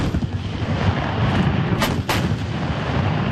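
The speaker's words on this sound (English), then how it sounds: "they have more than 30 of these howitzers or big military guns firing at the" More than 30 military howitzers fire together in a loud, booming blast, followed by rumbling echoes and a couple of sharper cracks, heavy and sustained with no talk.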